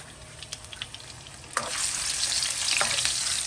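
Sliced, crushed ginger sautés in a hot pan for a salmon miso sinigang, a bright crackling sizzle with light stirring clicks early on that swells into a denser, steady frying hiss.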